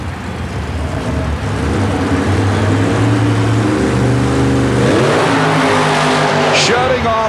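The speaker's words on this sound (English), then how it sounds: "Here's Todd Marion's gorgeous new carbureted nitrous-injected Jeep CJ funny car called Expect No Mercy." A carbureted, nitrous-injected Jeep CJ funny car roars loud and close through a mud racing run at Worcester, Massachusetts, in 1991, its engine note climbing and shifting in a steady blaring howl.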